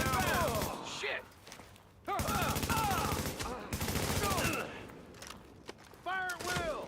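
Gunfire in The Division 2 shooter game comes as repeated bursts of rapid automatic shots, loud and dense, broken by brief pauses, with game voices and effects mixed in.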